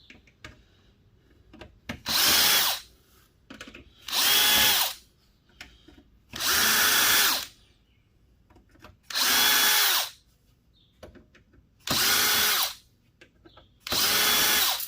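A power drill removes four screws from a computer tower case in six short, loud whirring bursts evenly spaced a second or so apart, with quiet handling noises in between.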